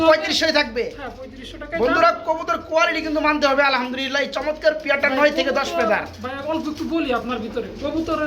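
Pigeons coo at a pigeon market, soft and close, mostly buried beneath continuous nearby conversation.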